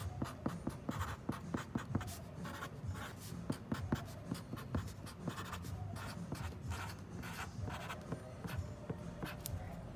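Pen scratching and tapping across paper while a short sweet Valentine's Day message is handwritten, a close, steady run of small strokes and taps with light paper shuffling.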